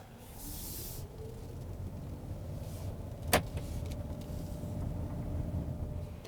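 A 2019 Kia Cadenza Hybrid rolls along a road at night, giving a steady broadband hiss of road and cabin noise with a low rumble, a brief sharp click partway through, and no talking.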